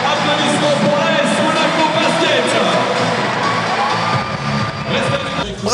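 A basketball arena crowd cheers and applauds AS Monaco Basket after its 102-76 win in the 2025 LNB Supercoupe final. The loud, continuous roar mixes shouts and whoops and stays near and steady throughout.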